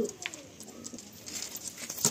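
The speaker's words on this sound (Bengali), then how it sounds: "খুব ছটফটে পায়রাগুলো। এই 1 সেট চটিয়াল পায়রা" Madrasi Chotiyal pigeons in a loft give low coos and faint shuffling and fluttering, restless birds heard close and quiet amid soft background noise.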